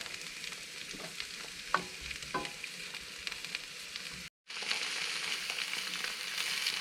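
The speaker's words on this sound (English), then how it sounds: "going to sizzle down these lobsters in some olive oil." Lobster mushrooms sizzle and crackle steadily in hot olive oil, a continuous frying hiss with a few stirring scrapes and a brief pause near the middle.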